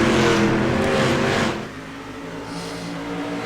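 Race cars roar loudly around the Oswego Speedway oval during a JBSRL Rising Stars race, engines howling at high revs; the sound is loudest at the start, then drops slightly as the pack runs on.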